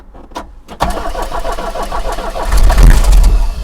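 A diesel engine cranks with a few clicks, catches and settles into a loud, steady, rumbling idle close by, swelling briefly toward the end.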